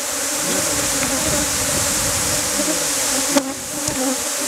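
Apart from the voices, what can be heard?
honey bees buzzing around a hive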